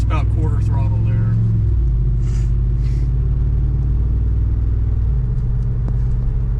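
A 2021 Ford F-250 with the 7.3-litre V8 and MBRP exhaust held at about quarter throttle, a deep steady rumbling drone that dips slightly in pitch partway through, loud and close.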